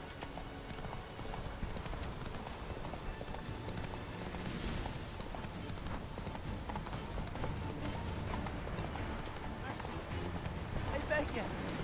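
Rhythmic clip-clop of a horse's hooves galloping in The Witcher 3 video game, continuous and fast, with a brief neigh, mixed under game music and sound effects.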